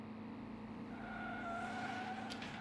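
A car drifting in the Slipstream racing game, a steady engine drone with a rising, sustained tire squeal over continuous road noise, moderately quiet.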